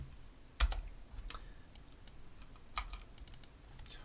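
Keys tapped on a computer keyboard during work in Maya, a few sparse, close clicks spread over several seconds in a quiet room, with no talking.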